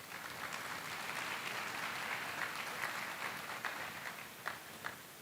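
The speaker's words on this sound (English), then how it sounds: "you acknowledge him with a nice round of applause" Sustained applause from a large audience at a matriculation and welcome ceremony greets the principal, a steady wash of clapping with a few sharper claps standing out near the end.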